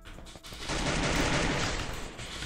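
Gunfire in a Free Fire duo-versus-squad match, a rapid sustained burst of shots rattling at moderate distance and fairly quiet, swelling in the middle and tapering off.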